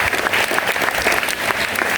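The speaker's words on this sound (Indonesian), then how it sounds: "Sekali lagi tepuk tangan kepada kita semuanya" Dense, steady applause from a large crowd at a school Teachers' Day ceremony in Indonesia, loud and continuous for the whole stretch with no pauses.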